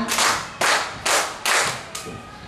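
A group of children at a summer camp clap their hands together in unison, about four or five sharp, loud claps at an even pace, each ringing out briefly in a room.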